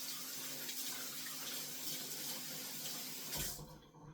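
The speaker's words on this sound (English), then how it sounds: "Rinse my hands." A kitchen tap runs steadily as hands are rinsed under the stream, a close, continuous broadband wash of water that cuts off abruptly near the end.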